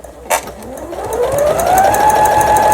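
A Brother XL9500 sewing machine stitching a decorative pattern, its motor whine rising in pitch as it speeds up, with a soft click near the start and a steady rapid needle chatter, close and loud.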